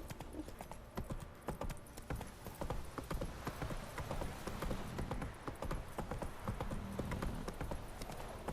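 A horse gallops in The Witcher 3 video game, fast, rapid hoofbeats clattering in a dense, driving rhythm throughout, loud and close.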